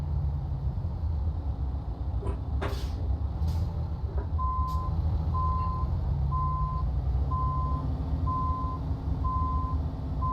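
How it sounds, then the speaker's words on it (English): Truck reversing alarm in Euro Truck Simulator 2, a regular series of evenly spaced beeps over a low rumbling diesel idle, with a few brief hisses early on. "This has got a nice sound to it. Apart from the beeping."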